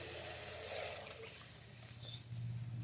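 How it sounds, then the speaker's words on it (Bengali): Water pours steadily into a hot pan of cooked spice paste, a continuous close splashing rush with a brief brighter hiss partway through. "এবারে আমি জল দিয়ে দিচ্ছি"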